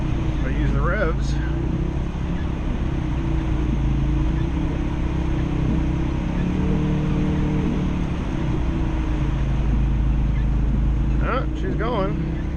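A Ford Focus RS stuck in deep snow during a blizzard revs hard and steadily, a loud continuous engine drone with wheelspin, while someone talks briefly at the start and near the end.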